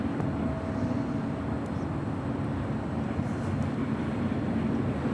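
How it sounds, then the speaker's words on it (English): An American Airlines Airbus A321neo departing Los Angeles International Airport, a steady broad low roar of jet engines at a distance, unbroken for the whole stretch. "That was American Airlines Flight 2883 heading to Miami. That A321neo."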